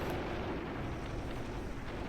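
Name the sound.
burning vehicle exploding in video game Graviteam Tactics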